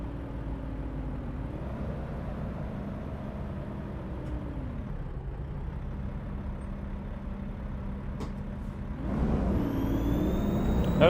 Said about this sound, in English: Notice how the revs climb up when you get on the throttle?